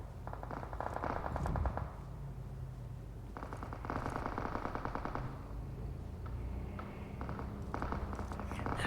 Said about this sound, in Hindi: बिकॉज आगे फायरिंग हो रही थी।